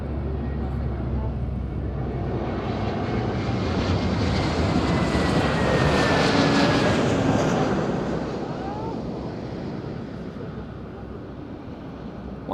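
A Transavia airliner on approach to Madeira airport in strong gusty wind, its jet engine roar swelling as it passes close overhead then fading away, with wind noise and voices speaking over it.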